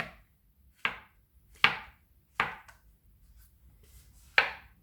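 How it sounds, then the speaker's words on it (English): Knife slicing mushrooms for a pizza topping on a cutting board, five sharp thuds at uneven intervals, close and distinct against a quiet background. "So for the mushrooms, I'm just going to slice them."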